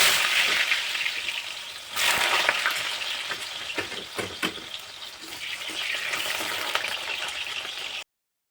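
Cut potatoes for French fries being washed in a home kitchen, a steady rushing, splashing water sound with stirring swishes throughout, close and fairly loud, cutting off abruptly near the end.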